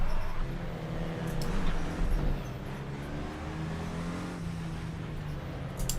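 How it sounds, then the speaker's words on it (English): A race car engine in the Assetto Corsa racing game drones steadily at moderate revs, holding a sustained hum with slight rises and dips, close and continuous with no talk. "This car actually has really good sound."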